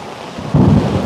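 Heavy rain with a deep rumble of thunder on a mountaintop, steady loud downpour swelling as the low roll of thunder rises halfway through.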